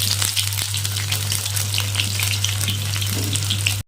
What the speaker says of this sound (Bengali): আমি সব পনিরগুলো ভেজে নেব এক এক করে।